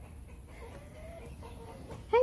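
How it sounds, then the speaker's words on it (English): A rooster kept in a coop with hens gives a short, loud clucking call near the end, after a stretch of low background noise with faint chirps. "I definitely got a rooster in there"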